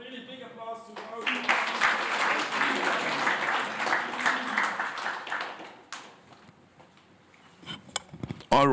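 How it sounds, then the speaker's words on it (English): An audience at a PhD school event applauds with dense, sustained clapping that swells, holds for several seconds and then fades to scattered claps, with voices murmuring before and after. "Yeah, so really big applause to those."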